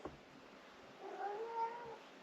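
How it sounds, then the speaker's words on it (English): A cat lets out a drawn-out, wavering meow, fairly quiet and close, after a brief tap at the start. "Crazy cat."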